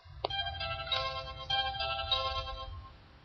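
A telephone rings inside a building, an electronic melodic ringtone heard somewhat muffled and from a distance, repeating for a few seconds against a low background rumble.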